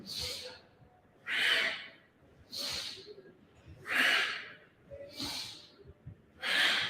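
Deep, audible yoga breaths, slow inhales and exhales repeating at a steady rhythm of about six breaths, close and breathy with soft airy hiss.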